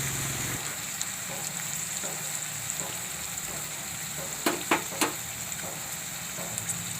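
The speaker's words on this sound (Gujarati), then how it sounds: "તો ટમેટાને આપણે તેલમાં ઘડીક સડવા દેવાના છે." Chopped tomatoes frying in hot oil for a carrot and pea curry, a steady close sizzle with light crackle, a few sharp clinks of a spoon against the pan midway.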